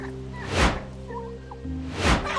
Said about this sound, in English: Turkeys have multiple vocalizations, including, but not limited to, gobbles, clucks,